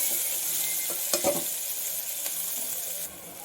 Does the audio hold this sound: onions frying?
yes